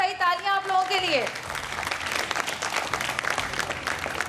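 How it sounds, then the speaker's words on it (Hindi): Studio audience applause at a Ramadan iftar television show, a dense burst of clapping that swells after a closing musical sting and holds steady, with a host's voice briefly over it. "बहुत सारी तालियां आप लोगों के लिए।"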